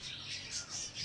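Canaries kept in cages chirp in quick, steady high trills, a continuous bright twittering that sits close and moderately loud with no voices over it.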